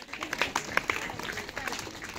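Scattered clapping from a school gathering welcomes forestry department guests, uneven and moderately quiet, with individual claps standing out in a loose ragged rhythm rather than a full roar.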